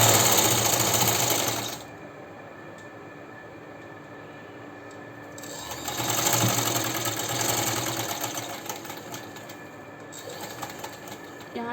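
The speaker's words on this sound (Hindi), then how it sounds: "हम इसकी एक तरफ से सिलाई" A sewing machine stitches one side of a garment sleeve in close, steady bursts: a loud run of rapid stitching, a pause, then two more runs.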